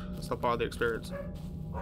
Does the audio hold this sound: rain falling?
no